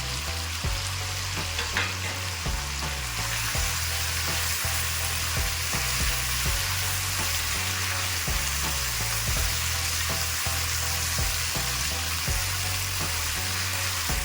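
Halved tomatoes and green chilies sizzle in a pan of frying spiced potato curry with grated ginger, a steady close hiss with soft stirring clatter running throughout and no talk.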